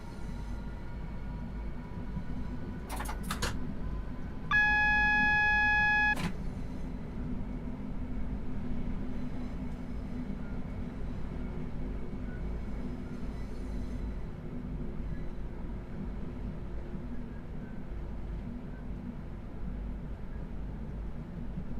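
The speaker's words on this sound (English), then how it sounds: "The 465, by far the best sounding train." Class 465 Networker Southeastern high-speed electric train in Train Sim World 2, with a low continuous rumble and motor whine, a couple of sharp clicks and a short chime early on, then a steady hum.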